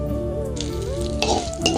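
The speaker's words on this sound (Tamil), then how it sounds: "காஞ்ச மிளகா, கருவேப்பிலை போட்டு தாளித்து வச்சுருக்கேன்" Dried chillies and curry leaves sizzle and crackle in hot oil during tempering, a close, steady frying hiss with small pops and no voices.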